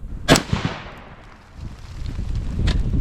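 A .25 Creedmoor rifle loaded with Reloader 17 fires a sharp, loud crack at an outdoor range, a single report that decays quickly. A second report follows near the end on a windy background, with no talking.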